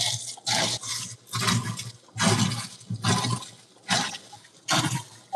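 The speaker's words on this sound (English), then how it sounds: "All you can hear is the splashing water currents." Water sloshes and splashes in a GE GTW220ACW0WW top-load washer as it agitates, in steady repeated surges roughly every second, loud and close, with the motor barely noticeable beneath the churning.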